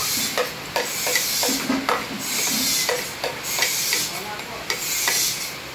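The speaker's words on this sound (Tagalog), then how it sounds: "titimplahan natin tong pork sisig" Pork sisig being stirred and seasoned in a hot pan, with repeated scraping strokes of a utensil over a constant sizzle of frying meat, close up, no talk.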